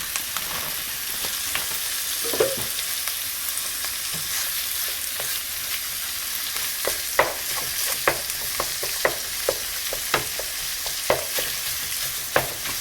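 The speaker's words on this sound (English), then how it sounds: "now goes in the pound of ground beef" A pound of ground beef browns in a hot skillet, giving a steady close sizzle broken by regular scraping taps of a spatula stirring the meat, with no voices.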